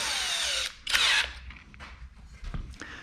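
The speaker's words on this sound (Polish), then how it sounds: "i będę wiercił" A power drill with a thin bit whines in two short bursts into a wall, close and loud, followed by quieter scraping and clicking.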